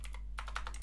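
Quick keystrokes on a computer keyboard while entering data into an Excel spreadsheet, a short burst of close, crisp clicks after a brief pause, over a steady low hum.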